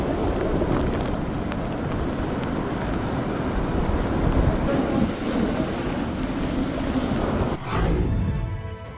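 Howling storm wind roars loudly and steadily throughout, mixed with a turbulent wash of surging water, then a sudden heavy gust bursts through near the end before settling into a slightly thinner rush.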